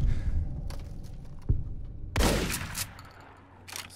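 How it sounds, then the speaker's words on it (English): Shotgun blasts in Fallout: New Vegas, a couple of sharp booming shots with a hard crack and rolling tail amid other combat thuds, fairly close and loud. "Stupid shotgun."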